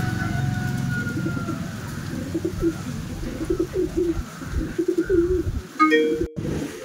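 Pigeons coo repeatedly inside their loft, soft low throaty burbles overlapping in a busy, rhythmic murmur, with a few higher chirps and rustling toward the end.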